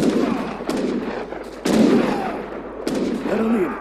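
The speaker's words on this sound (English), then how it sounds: "Can't see exactly what the town center is shooting at." Town center gunfire in Age of Empires III during a tournament match: several sharp, loud shot bursts fire at irregular intervals amid continuous game battle noise.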